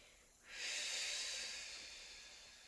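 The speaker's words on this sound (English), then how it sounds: "Take a nice deep breath." A single long, deep breath drawn in and slowly released during a mat exercise session with a ball, close and airy, swelling quickly then fading gradually with no talking.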